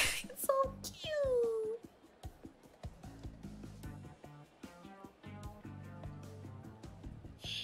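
A cat meows in the video game Like a Dragon: Ishin!, giving a couple of rising, drawn-out mews early on, followed by quieter game sounds and background music.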